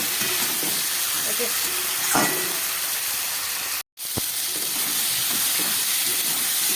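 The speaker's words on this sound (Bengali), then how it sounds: "সমস্ত সবজিগুলো আমার খুব ভালো করে কষিয়ে নিয়েছি" Vegetables sautéing in a pan, a loud continuous hiss and sizzle with occasional stirring scrapes and a brief dropout partway through.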